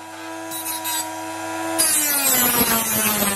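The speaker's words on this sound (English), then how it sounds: "I just had to try my best to keep the grind of the edge even along the knife" A steady motor hum from an electric knife sharpener turns harsher as the knife blade meets the grinding stone, giving a loud, gritty rasp that continues to the end.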